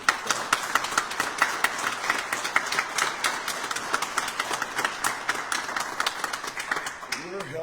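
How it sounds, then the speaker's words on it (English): A press-conference audience gives someone a round of applause, a fairly thin crowd clapping at a brisk, irregular pace, with a voice starting to speak as it fades out. "Let's give him a warm round of applause"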